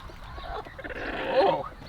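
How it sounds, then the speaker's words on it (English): Layer hens in a coop clucking and squawking in a busy, overlapping chorus, moderately close, with a louder burst of calls near the end. "let's check on these layer birds, since they're all making all this noise"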